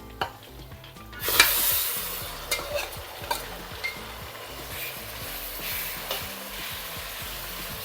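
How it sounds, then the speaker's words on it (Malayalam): Masala-marinated chicken dropped into a hot pan, a sudden burst of sizzling followed by scraping stirring strokes and clinks of the utensil against the pan, the frying hiss settling underneath. "ഇനി ഇതിലോട്ട് ഈ ചിക്കനില്ലേ നമ്മൾ മസാലയൊക്കെ ചേർത്ത് വെച്ചേക്കുന്നത് അതിട്ട് കൊടുക്കാം"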